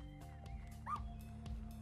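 A puppy in the video game Little Misfortune whimpers once, a short high rising whine heard near over steady game music, with soft thuds around it.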